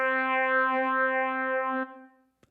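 Brassy synth trumpet from a Korg Kronos, run through a Biphasor effect with LFO-driven motion, holds one sustained note for nearly two seconds with a slowly sweeping, wavering tone, then cuts off and fades into a faint tail.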